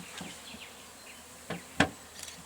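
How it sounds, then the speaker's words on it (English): Honeybees from a 3 lb. package being installed into a hive give a faint, close buzzing with a few sharp knocks and taps mixed in. "Let's rake these bees out of the way so we don't mash them"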